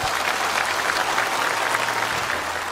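A hall audience breaks into a steady round of applause at a Buddhist dharma talk, a dense even wash of clapping held for the whole stretch with no voices over it.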